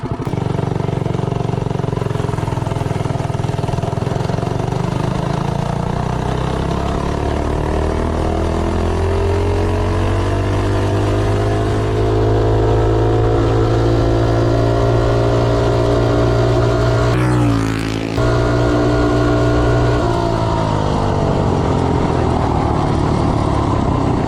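A Predator 212 engine fitted with a Hemi head drones loudly and close through a long top-speed run, its pitch sliding and climbing steadily, with a brief drop and surge near the end.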